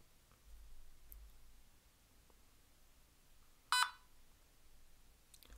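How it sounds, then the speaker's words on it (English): A LEGO EV3 brick speaker gives one short, sharp electronic beep from a MicroPython program, standing out clearly against a faint, quiet room hum. "And all it was the speaker beeped."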